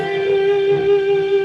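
Overdriven electric guitar with unmuted strings left ringing, producing a sustained, humming tone with layered overtones that hangs steadily for a brief moment without any talking.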